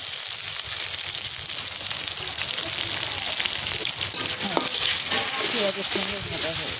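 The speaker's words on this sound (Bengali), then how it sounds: "এই যে আপনারা শুটকিটা আমার এককালে ভাজা হয়ে যাবে আমি দিয়ে দিচ্ছি শুটকিগুলো" Dried ribbonfish sizzles steadily with onions in a village kitchen pan, a continuous broadband hiss and spatter with occasional stirring scrapes, loud and close throughout.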